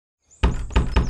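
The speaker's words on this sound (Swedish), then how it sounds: "Knacka på dörren." Three firm knocks land on a door in quick succession, close and loud against otherwise silent surroundings.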